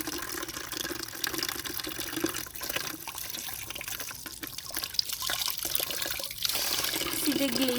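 Ice-cold water runs steadily from a tap in a village home, a continuous close splashing hiss that swells slightly toward the end.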